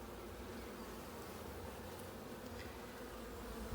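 Honeybees hum continuously around an open hive during an apiary inspection in Ballachulish, a dense, steady buzz close at hand with no pauses.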